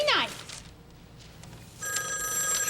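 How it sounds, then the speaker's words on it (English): An old telephone bell rings in a 1983 children's television show, a bright metallic trill that starts after a brief voice and a short quiet gap and carries on to the end. "the phone rings"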